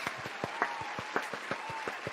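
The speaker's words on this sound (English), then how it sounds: "round of applause for PlayStation" A short burst of hand clapping, a modest round of applause for PlayStation during a retro gaming club chat, with sharp uneven claps close by and no talk.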